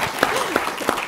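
An audience applauds at the close of a lecture, a brief burst of dense clapping from a crowd with a voice speaking over it.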